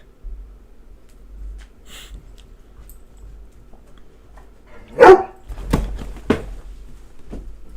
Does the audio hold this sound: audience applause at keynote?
no